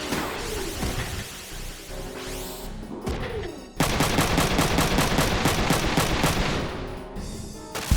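Mech gunfire rakes a tank in the video game Front Mission 3, with rapid bursts of automatic shots, a sweeping whine and a sudden louder barrage of evenly spaced reports ending in a final crack.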